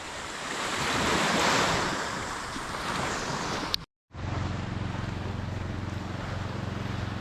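Sea waves washing onto the shore at the far end of Rawis, away from houses, a steady rushing surf with wind noise, briefly cut off by a gap before resuming as continuous roar.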